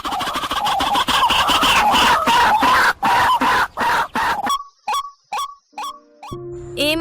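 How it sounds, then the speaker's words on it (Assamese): A white-breasted waterhen calls loudly in a fast, harsh run of repeated notes, then slows to a few spaced, separate calls with brief gaps, close and alone. "এই মাতটো ডাউক চৰাইৰ"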